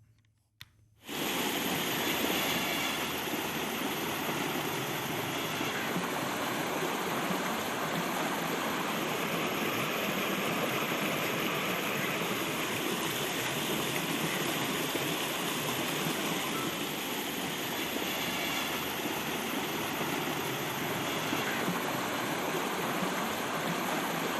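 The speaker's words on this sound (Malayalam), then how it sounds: "കനത്ത മഴയിൽ തോട് ഗതിമാറി ഒഴുകുകയാണ്" Rushing water from a stream swollen by heavy rain and overflowing its course in Pattambi, Kerala, a loud steady roar that starts abruptly after a brief quiet moment and continues unbroken.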